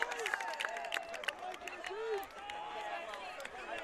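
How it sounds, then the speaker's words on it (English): Spectators at an MCLA men's college lacrosse game between South Carolina and Georgia scream and cheer after a Gamecocks goal, a distant, steady crowd roar with sharp whistles and shouts layered under an announcer's voice. "His friends from the crowd scream"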